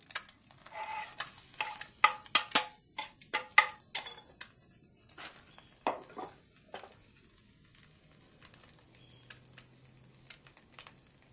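Rice noodles stir-fried with egg and fried garlic in a wok, with quick clattering scrapes and a steady sizzle, busy and close in the first half, then thinning to sparse stirs over a soft hiss.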